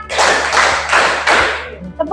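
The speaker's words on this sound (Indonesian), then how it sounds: "tepuk empat," A class of pupils claps in unison four times in steady counted rhythm, each burst a broad crackle of many hands fading out, followed by a brief voice at the end.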